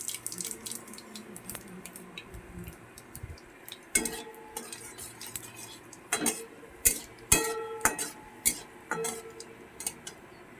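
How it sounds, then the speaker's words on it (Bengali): Panch phoron spices hit hot oil in a pan as mustard oil heats up, a soft sizzle under intermittent metal clinks and spatula scrapes, heard close with quiet stretches between the louder knocks. "তেলটা গরম হয়ে গেছে দেব একটু সামান্য পাঁচফোড়ন"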